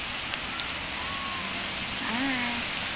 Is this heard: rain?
yes